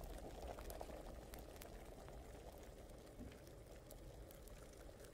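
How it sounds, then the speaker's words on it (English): A potion boils in a pot during alchemy in Kingdom Come Deliverance, a faint, steady bubbling and simmering hiss that continues evenly throughout. "I think I boiled it way too hard."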